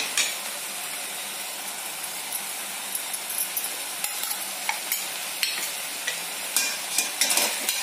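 Garam masala being stirred into dried shrimp frying in a pan, a steady soft sizzle with scattered scraping clicks of the spoon growing more frequent toward the end, no talking.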